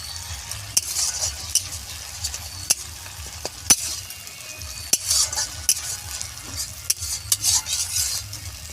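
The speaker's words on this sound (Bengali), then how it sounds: "পরিমাণ মতো রসুন বাটা, পরিমাণ মতো কাঁচা লঙ্কা বাটা, দিয়ে খুব ভালো করে মশলাটাকে কষিয়ে নেব" Garlic and green chili paste fries and sizzles in a pan while a utensil stirs it steadily, with scraping strokes and faint clinks over a constant close sizzle; no one speaks.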